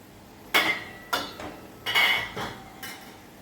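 Metal clinks and clatters around a pot of frying vadas as the lid is lifted off, four sharp bright knocks spaced about a second apart, close, with no talk.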